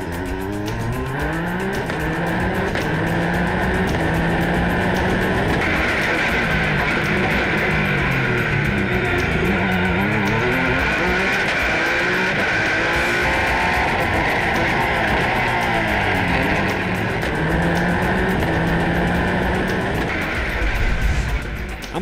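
Peugeot 208 T16 race car climbing Pikes Peak, its engine screaming continuously at high revs with repeated shifts and rises in pitch, loud and close throughout.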